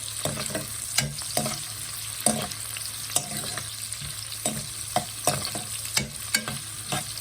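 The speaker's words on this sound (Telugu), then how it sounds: "ఆనియన్స్ కూడా వేసుకుందాము ఆనియన్స్ గోల్డెన్ బ్రౌన్ వచ్చే వరకు వేయించుకోవాలి" Onions frying in oil toward golden brown for mutton keema biryani: a continuous sizzle broken by repeated sharp stirring scrapes and clinks of a spoon against the pan, close and fairly loud.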